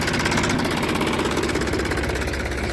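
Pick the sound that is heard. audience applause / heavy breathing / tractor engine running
tractor engine running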